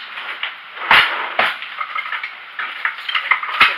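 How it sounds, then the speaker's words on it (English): A metal pie spatula scraping and clinking against a pan while lifting a cheesecake, a short series of close, sharp metallic taps and scrapes with a couple of louder knocks, no talking. "I'm going to use a pie spatula"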